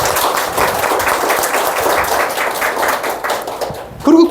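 A church congregation applauds two longtime members in a dense, steady patter of many hands that carries on for several seconds before a brief lull and a closer sound at the end.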